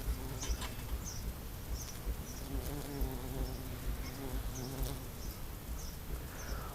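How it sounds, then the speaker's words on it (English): Bees buzz around lamb's ears flowers in a summer garden, a steady close insect hum with several passing whines, and faint bird calls in the background. "All of that buzzing is fantastic. I absolutely love it. The bees are having a great time in the lamb's ears."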